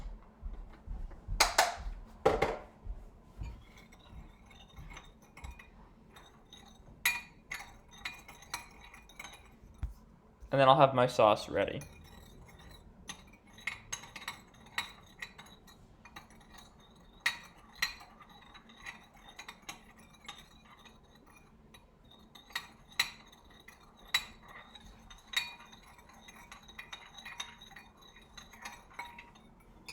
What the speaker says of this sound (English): Now whisk this all together until the sugar is dissolved completely.